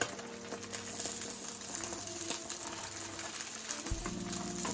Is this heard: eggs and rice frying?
yes